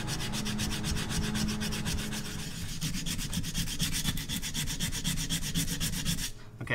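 Sandpaper is rubbed by hand over an aluminum compressor housing, rapid rhythmic back-and-forth scratching strokes, close and steady throughout and stopping abruptly at the end.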